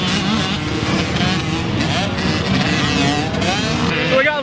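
85cc dirt bike motorcycles and bigger bikes racing on a motocross track, engines buzzing and revving continuously at close range, loud, with shifting pitch as riders accelerate.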